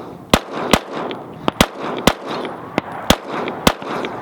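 Pistol shots fired at a target in practice, eight sharp cracks in quick pairs and singles, loud and close with brief outdoor echo.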